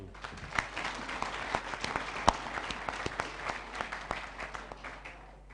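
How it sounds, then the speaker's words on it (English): Audience applause at a Centre for Africa Volunteers conference, a moderate patter of many hands with scattered sharper claps, steady for several seconds at mid distance. "Let's give another hand of applause to..."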